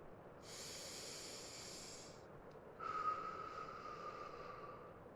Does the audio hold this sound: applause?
no